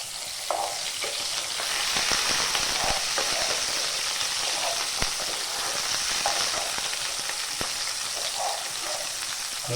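Onion stirring and sizzling in a hot pan for a beef and plantain dish, a steady broadband fry with scattered soft scraping strokes throughout, close and fairly loud, no voices.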